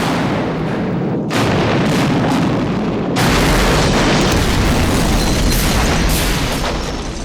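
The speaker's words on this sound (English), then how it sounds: "As the explosives begin to cut through the metal structure, pressure is released" Explosive charges demolishing Blyth Power Station, cutting through its metal structure: a sustained, heavy rumbling roar of blasts and booms that jumps louder about three seconds in and carries on densely to the end, with no talk.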